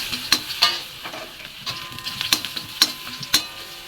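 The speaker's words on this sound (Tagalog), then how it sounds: "Painit tayo ng mantika. Lagyan na natin ng bawang." Garlic sizzles in hot cooking oil while being stirred for duck adobo, a steady frying hiss broken by sharp metallic spatula scrapes and clinks at irregular intervals.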